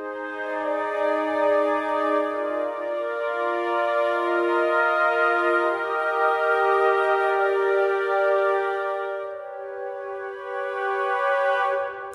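Sustained woodwind ensemble chord voiced with more flutes and clarinets than oboes, a smooth held tone that swells gently and fades at the end, played alone.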